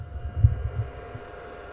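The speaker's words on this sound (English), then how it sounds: "That's the sound that light's making" A big video light gives off a low, faint electrical hum with a soft throbbing, steady and close to the microphone, with no other sound around it.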